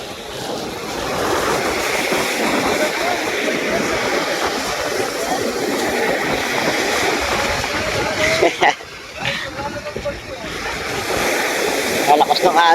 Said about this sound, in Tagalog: Kalakas ng alon, eh.